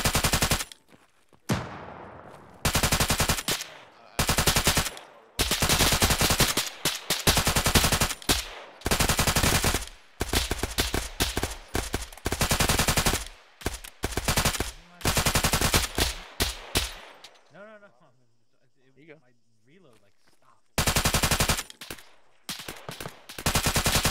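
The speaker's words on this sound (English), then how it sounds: "Panther, don't move, I'm shooting over your head." Long bursts of machine gun fire from the Arma military shooter game, loud and close, fired in repeated sustained strings separated by short pauses, with brief quieter gaps and distant echoes between volleys.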